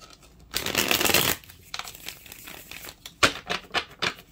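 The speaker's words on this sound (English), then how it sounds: "but I'll shuffle one more time." A tarot deck is shuffled: a long riffling burst, then several short snappy bridging flutters.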